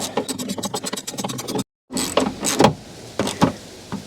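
T-30 Torx screw being driven into the plastic of a Lexus GX460 rear exterior door handle: a close, rapid ratcheting whir of turning bursts, a brief pause, then slower uneven clicks and creaks as the screw seats.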